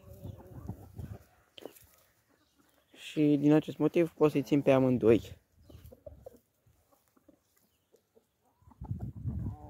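Backyard chickens and roosters cluck, with a loud run of harmonic calls in the middle, while someone talks nearby before and after.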